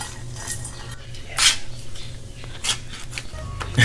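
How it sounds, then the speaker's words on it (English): Pasta noodles being washed and rinsed in a kitchen pan, giving wet scraping and clattering sounds with a few sharper metallic knocks, fairly loud and close, with no speech. "Wash the pasta."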